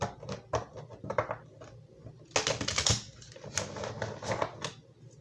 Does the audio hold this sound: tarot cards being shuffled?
yes